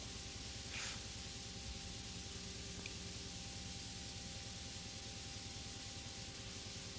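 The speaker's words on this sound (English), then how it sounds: "Don't you miss VCR white noise?" Dense, steady white-noise static from a VCR hisses evenly across the whole span at a constant level, with no voices over it.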